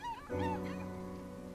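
Puppies in the video game Dwarf Fortress give a brief whimpering yip, a short high tonal cry that gives way to a steady low game drone.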